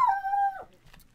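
Dog howling close by, one long rising wail that holds and then drops off sharply, followed by a faint yip.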